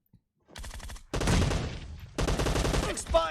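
Rapid gunfire from a shooting video game match on the Hangar map, bursts of shots coming in close succession across the clip with brief gaps, loud and near, no talking.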